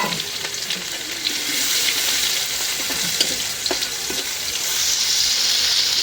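Garlic and dried red chillies fry in oil in a pan with a steady, close sizzle and faint stirring scrapes.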